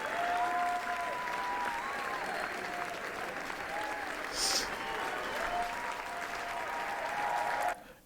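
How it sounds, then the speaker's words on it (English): A crowd claps in a steady round of applause for several seconds before it cuts off abruptly, with a faint tone running underneath. "Let's give that a round of applause."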